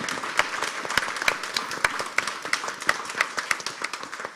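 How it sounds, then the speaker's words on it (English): A live audience claps steadily at the close of a clean energy start-up pitch battle in Glasgow, dense applause with sharp individual claps standing out throughout, moderately loud and close. "A round of applause,"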